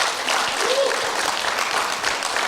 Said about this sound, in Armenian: Եկեք ծափարենք իրան,